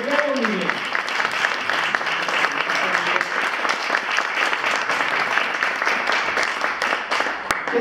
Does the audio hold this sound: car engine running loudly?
no